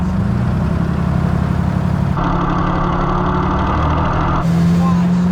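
A 1948 cab-over dump truck's V12 Detroit Diesel engine runs loud and close with a steady rumble, the pitch lifting into a rev about halfway through and dropping back, while people talk over it.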